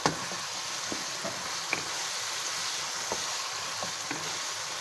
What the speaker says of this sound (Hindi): शिमला मिर्चें भी चिकन के साथ सौते हो जाएंगे।